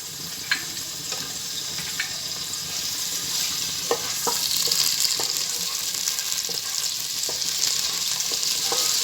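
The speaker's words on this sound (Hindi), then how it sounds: "इसमें डालेंगे जी हम अपना प्याज और प्याज को कर लेंगे हम हल्का सा ब्राउन" Onions frying in hot oil in a pan for a green beans and meat dish, a steady bright sizzle with occasional scrapes and taps of a stirring spoon, close and fairly loud, with no talking.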